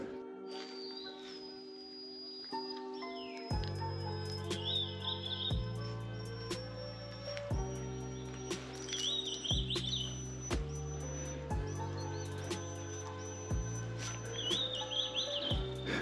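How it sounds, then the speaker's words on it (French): Bird calling in the mountain forest of Mount Kavulungan, Taiwan: bright, repeated chirping phrases rising at intervals over a steady layered drone of insects and ambient sound, with no talking. "Vous écoutez cet oiseau? En fait, c'est un oiseau,"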